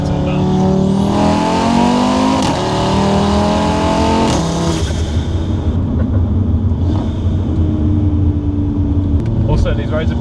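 A modified car's engine revs loudly while driving on bumpy roads, rising and then shifting down, with a strong steady drone and a passing whine afterward; a voice speaks faintly over it.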